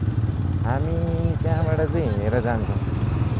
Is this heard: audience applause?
no